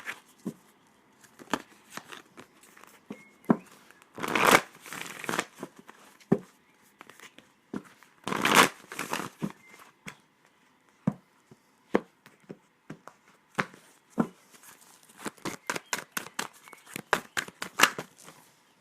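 Oracle cards from the Wild Offering Oracle deck are shuffled in quick irregular bursts of riffling and soft slaps, close and fairly quiet, with pauses between flurries.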